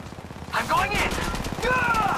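Gunfire rattles in Apex Legends Mobile as a burst of shots cuts through the fight, loud and close, with game voice lines speaking over it.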